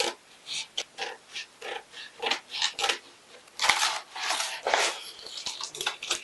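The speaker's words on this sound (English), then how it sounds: "So I'm going to cut off also the neckline for the back." Scissors snipping through a paper bodice pattern to cut out the back neckline, close and fairly quiet, with a series of uneven crisp cuts and rustling paper, no talking.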